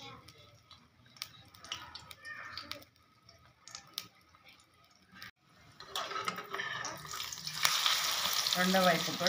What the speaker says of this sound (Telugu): ఆయిల్ వేడెక్కింది. ఆమ్లెట్ అయితే వేస్తున్నాను.